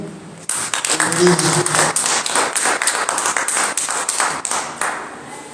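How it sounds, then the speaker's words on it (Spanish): An audience claps for an honored lifetime chronicler of Tecámac de Villanueva at a public lecture event, a dense run of crisp handclaps filling the room for several seconds, with a voice speaking over the start. "Démosle un aplauso"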